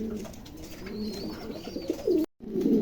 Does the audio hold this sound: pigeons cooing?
yes